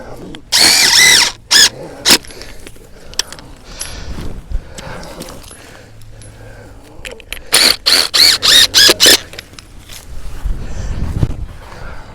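A power drill drives tent-style pegs into the ground at an angle to anchor a mast's supports. It comes loud and close as one long whir, then several quick repeated bursts, with quieter handling noise in between.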